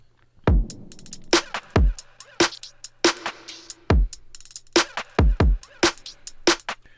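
Sliced sample loop built in Ableton, each slice given different effects plus delay: sharp, irregular percussive hits separated by short gaps, some with ringing tails and echoes, played alone.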